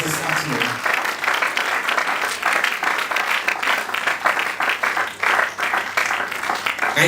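An audience at a civic hub gathering keeps up loud, dense applause for an honoured man walking to his seat, a steady wall of many hands clapping that runs unbroken from start to finish.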